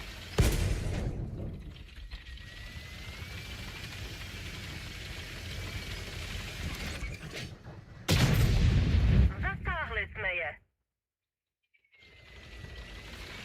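A tank gun firing a high-explosive round in World of Tanks, a sharp boom over steady engine rumble, with a second heavy blast and rattling mechanical noise later, then brief silence before the rumble returns.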